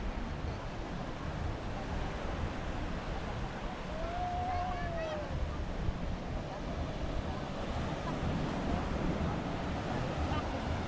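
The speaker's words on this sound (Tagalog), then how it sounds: "Biglang nagwala yung dagat, guys." Rough surf pounds the shore at Baler, a steady broadband roar of crashing waves with wind across the microphone, and a brief whistle-like tone passes in the middle.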